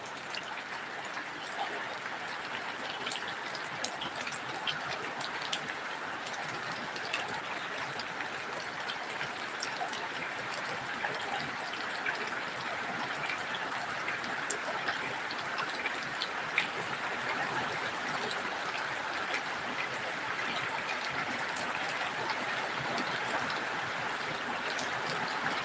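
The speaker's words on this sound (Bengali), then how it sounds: "প্রচুর বৃষ্টি শুরু হয়েছে এটা ভান্ডারিয়া উপজেলায়" Heavy rain pours down over Bhandaria upazila, heard from a rooftop as a dense, steady hiss that holds at an even level for the whole stretch, with no voices.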